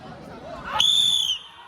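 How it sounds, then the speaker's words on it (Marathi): A sharp, high whistle is blown once to start a bullock pair in a district-level mud ploughing race, a bright sustained blast lasting about half a second over low crowd murmur and an announcer's voice. "शिट्टी वाजली. जोडी सुटली."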